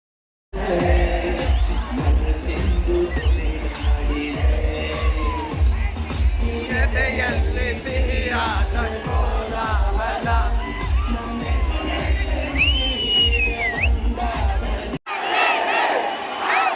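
Loud applause mixed with whoops and cheering from a large crowd fills the hall for an actor arriving on stage at the Yuva Sambhrama 2024 event. It is dense and sustained, and a brief cut near the end changes the tone.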